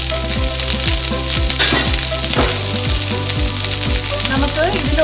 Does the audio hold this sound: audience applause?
no